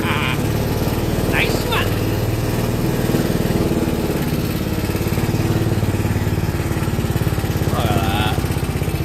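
A big block Enticer engine runs steadily as it rolls in first gear without throttle, giving a loud, continuous, close chugging drone. A voice comments briefly over it, and high squeaky tones cut in now and then.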